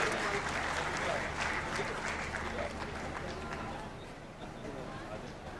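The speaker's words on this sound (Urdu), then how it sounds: "حضرات تالیاں بجائیے زوردار" An audience applauds at a ceremony where the Chief Minister of Punjab is presented. The clapping is dense, sustained and crowd-wide, with a light murmur under it, and it eases slightly toward the end.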